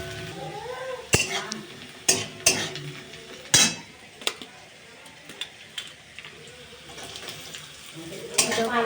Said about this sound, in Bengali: কাঁচা লঙ্কা বিনসটা দিয়ে আবার একটু নাড়িয়ে চাড়িয়ে নেবো